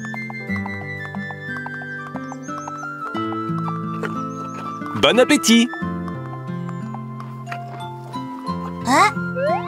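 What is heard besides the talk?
cartoon horses walking into their stable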